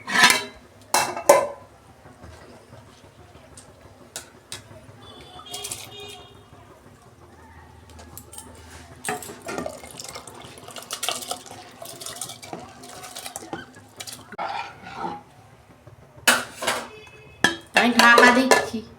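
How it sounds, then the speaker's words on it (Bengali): Water is drained from soaked rice in a pot, with clattering of the pot and utensils, splashy bursts at the start and end, and quieter kitchen handling in between. "জলটা ফেলে দিচ্ছি"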